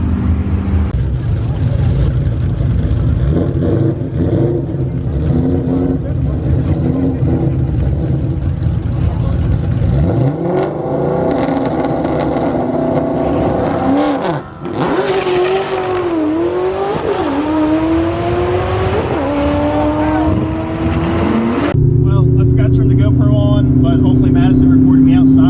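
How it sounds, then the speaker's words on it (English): Eaton-supercharged Cobra drag car making its first nitrous pass at a drag strip, a loud sustained engine roar with rising revving sweeps and gear changes, then a steady drone near the end; voices talk faintly underneath. "I'm gonna go get in my car and make a pass. First nitrous pass at the track"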